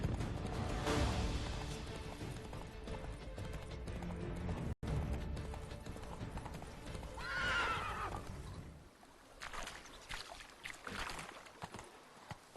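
A horse in The Witcher 3 video game gallops with rapid hoofbeats and gives a loud neigh midway, then the pounding eases into quieter steps, all fairly near.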